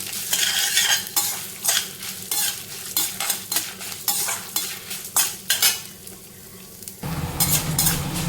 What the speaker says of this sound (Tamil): கருப்பு உளுந்து பார்த்திங்கன்னா அந்த கலர் மாறும் இல்லையா, அந்த கலர் மாறுற வரைக்கும் நம்ம வறுத்துக்கலாம்.